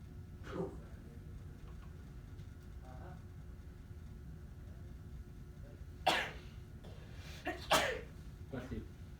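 A person sneezes twice in a quiet indoor room, the first a sharp close burst and the second a longer, fuller one, with a faint throaty sound earlier and soft background hum.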